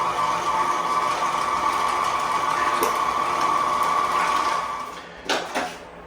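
Electric meat grinder working pork through at close range, a steady whirring motor hum that holds for several seconds, then slows and trails off, followed by a couple of light clunks.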